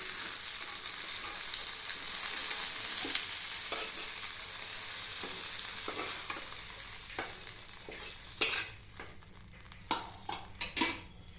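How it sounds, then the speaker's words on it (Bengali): Eggplant pieces sizzle in hot oil in a pan, a steady close frying hiss, then in the last seconds the utensil gives several sharp clinks and scrapes as the pieces are lifted out; no voices. "বেগুনগুলো ভাজা হয়ে গেছে, এবার তুলে দিচ্ছি"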